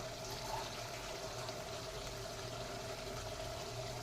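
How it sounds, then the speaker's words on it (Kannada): Heated water is poured from a glass onto rice for chicken donne biryani, a steady, quiet trickle and stream of liquid running continuously under low background noise. "ಈಗ 2 ಗ್ಲಾಸ್ ಅಕ್ಕಿಗೆ 3 ಗ್ಲಾಸ್ ನೀರು ಹಾಕ್ಕೊಳ್ತಿದ್ದೀನಿ"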